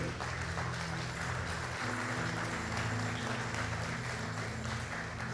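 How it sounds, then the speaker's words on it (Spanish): Steady, dense applause from a church congregation during a sermon, continuing without a break. "Denle un aplauso al Señor Jesucristo."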